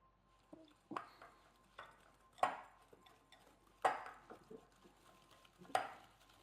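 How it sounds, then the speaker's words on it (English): Wire whisk mixing sugar and cornstarch in a bowl: a handful of sharp, separate metallic clinks and scrapes, sparse and uneven, close by and fairly quiet against near silence, with no talking. "And you need a wire whisk, and we're just going to whisk that together."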